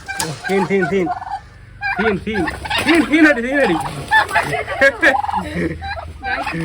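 Turkeys and other fowl squabble in a fight, with repeated loud gobbles and clucking calls overlapping close by, bursts tumbling over one another with short pauses between.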